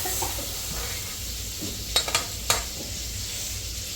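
Mustard seed tempering sizzling as it goes into mango pulissery in a home kitchen, a steady close hiss of frying with a few clinks of a pan or spoon.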